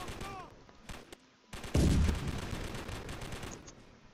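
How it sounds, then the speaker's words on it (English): A tank's machine gun firing in a video game, a loud sustained burst starting abruptly midway and rattling on, preceded by quieter game noise and faint voices. "See, because it's got a machine gun."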